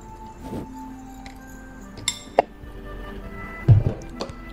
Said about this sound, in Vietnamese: Rồi bây giờ mình khuấy đều trà lên nha các bạn.